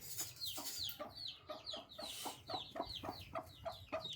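Chickens clucking and calling at a rural Thai family home, a steady series of short close clucks over low background noise, with no talk.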